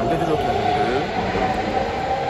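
Riding an Istanbul metro train brings a continuous rumbling roar with a whining tone, heard from inside the carriage while someone speaks briefly.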